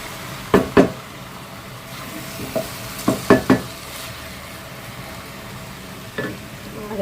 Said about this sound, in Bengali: সবজিটা বাগার দিয়ে দিয়েছি, দিয়ে ধনিয়া পাতা দিয়ে দিলাম।